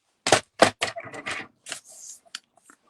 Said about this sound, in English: So I'll cut this down.